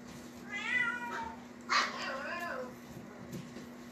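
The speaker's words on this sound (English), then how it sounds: "that's probably Mama Kitty I'm hearing looking for her babies" A female cat meows twice in long, drawn-out, wavering calls, searching for her kittens. She sounds a little distant against a quiet background with a faint steady hum.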